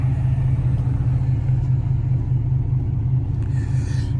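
Chevrolet Camaro 2SS engine rumbles steadily while cruising at night, a constant deep low drone from inside the car with no talking.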